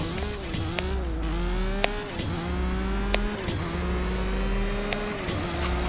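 Ferrari F12 Berlinetta engine in the racing video game CSR2, revving high and shifting repeatedly, each upshift a sharp drop in pitch before climbing again, loud and continuous with no talk.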